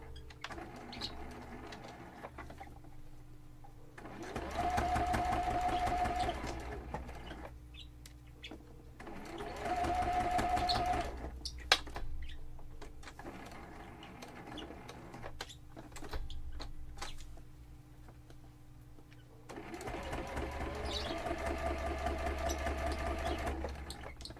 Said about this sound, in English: I'm just doing a straight stitch.